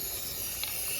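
Paint sprayed from a can inside the engine bay of a built 2JZ IS300, one steady loud hiss running throughout with no pauses.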